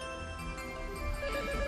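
A telephone rings in an indoor household scene, its repeating electronic tone fairly faint and steady, growing slightly louder toward the end of the short stretch.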